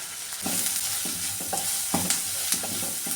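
Onions sautéing in a pan with turmeric for a coconut-based papadam curry, a soft sizzle under regular scraping strokes of a spoon stirring at a steady rhythm, with no talk.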